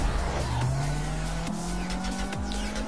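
Cars race through city streets in the GTA V video game, engines revving loudly with rising pitch sweeps as gears shift, tires squealing and skidding throughout.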